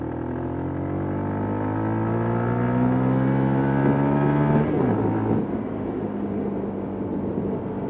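Lexmoto LXR125 125cc motorcycle engine revving up steadily through the gears, pitch climbing, then a brief dip at a gear change before pulling on, loud and close with road and wind rumble underneath.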